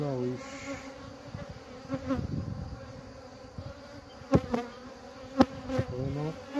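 Honeybees hum around an opened beehive frame during a springtime check of the super and drone-brood frames, a steady close-up drone with a few sharper buzzes as bees fly near, no talk.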